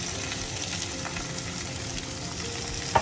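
Thinly sliced onions frying in coconut oil in a pan, a steady loud sizzle with crackling pops throughout and a brief stir near the end.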